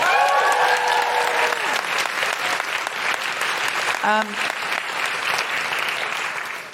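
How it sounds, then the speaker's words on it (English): A large crowd claps loudly and steadily, with a brief cheer or whistle partway through, the applause continuing throughout. "Big round of applause for Danielle."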